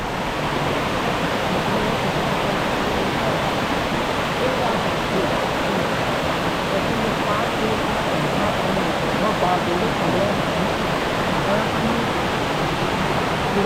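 Ozar waterfall near Ovaliye village pours clean water over slippery rocks in a loud, unbroken rushing roar, close by and constant from start to finish with no pauses.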